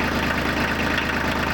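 A tractor engine idles steadily with the PTO engaged to drive a backhoe attachment, a close, even low-pitched rumble with a regular pulsing beat throughout.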